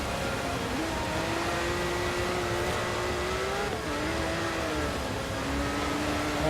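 A Ferrari Testarossa in Forza Horizon 4, naturally aspirated engine held at a sustained drone while drifting sideways in snow, pitch wavering and dipping briefly, loud and steady with no talk.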